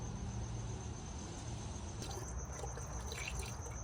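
Coolant trickles and pours into a ready mix truck's radiator, a quiet, steady liquid splash close by with no talking.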